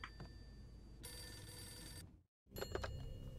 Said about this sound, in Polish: Telefon. Odbierzemy i zobaczymy, kto to dzwoni.